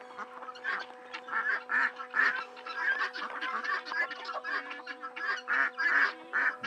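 A flock of ducks quacks and honks repeatedly in a busy, overlapping chorus at close to moderate distance, with a steady faint hum running underneath throughout.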